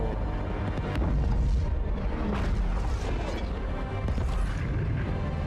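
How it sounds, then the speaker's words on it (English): Big explosions erupt in Halo 2: Anniversary, layered with continuous booming rumble and crackling debris that stay loud and dense throughout, with sharper blasts punching through at intervals. "look at all those big budget explosions"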